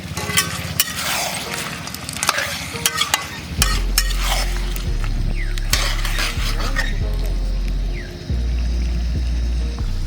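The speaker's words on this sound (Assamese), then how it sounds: "এতিয়া এইখিনি আৰু অলপ টাইম ভাজি ল'ম।" Mutton sizzling with ginger garlic paste and fried onions in a pot outdoors, a loud continuous fry broken by repeated scraping and clanking stirs of a metal spoon against the pan, with no voices.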